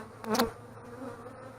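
A honey bee buzzes close by during a beehive inspection, one brief loud pass that quickly fades into a faint, quiet hum.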